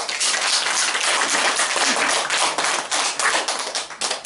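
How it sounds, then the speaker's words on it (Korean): An audience claps steadily for students at a church seminar, a dense, continuous patter of many hands sustained throughout with slight swells and no voices over it. "자 우리 학생들 박수 한번 쳐줍시다."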